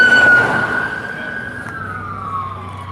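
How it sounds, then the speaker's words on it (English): An ambulance siren wails loudly and close by at a trail festival in Damascus, Virginia, its tone sliding slowly downward as it passes, with no one talking over it. "And an ambulance."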